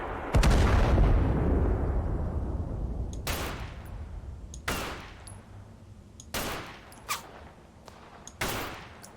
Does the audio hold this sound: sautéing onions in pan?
no